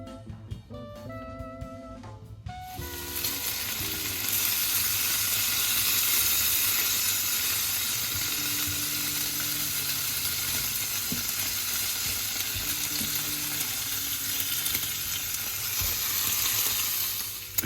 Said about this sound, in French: Je commence par faire griller mes tranches de bacon dans une poêle évidemment sans matière grasse.